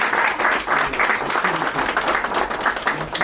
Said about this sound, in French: Applaudissons pour l'éducation.